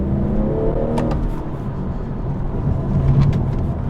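A BMW M240i drops down a gear and accelerates, giving a steady engine roar heard from inside the car, with a slight rise in revs over a few seconds and no talking.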